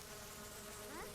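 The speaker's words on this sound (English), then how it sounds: "We've brought back roaches and flies." Flies buzz in the Eco video game, a faint, thin insect drone that holds steady and then rises in a brief whining sweep near the end, with no voices.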